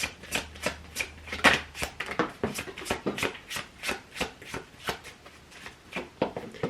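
Tarot cards shuffled by hand in a steady run of quick riffling bursts, close and fairly loud, with no voices.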